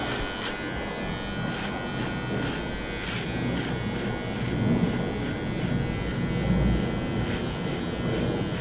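Braun MGK7220 electric trimmer buzzes steadily and close up while cutting a beard, a continuous electric hum with no talk.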